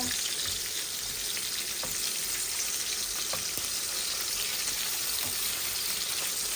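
Sea bream shallow-frying in a pan, a steady close sizzle and crackle of hot oil running without pause, with a few faint spatters and no voices.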